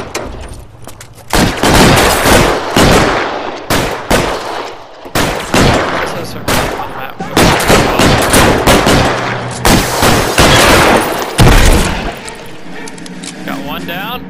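Loud shootout gunfire from the video game L.A. Noire, with dense bursts of shots and rapid volleys close by and repeating through the scene, along with voices talking in between.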